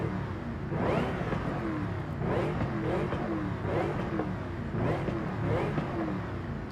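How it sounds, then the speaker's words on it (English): A supercharged car engine in Forza Horizon 5, revving in repeated rising pulls with a steady rumbling drone under a faint whine, loud and continuous with no talk. "I kind of hear the supercharger whine"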